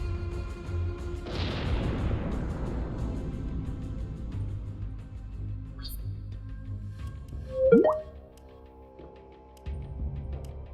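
Missile explosions in the naval combat game Ghost Fleet: a broad booming burst at about one second decays over several seconds, followed by a sharp whooshing hit near eight seconds amid a steady low rumble.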